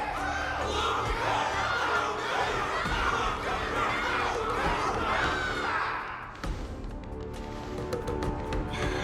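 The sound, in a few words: crowd cheering, from the video game Honkai: Star Rail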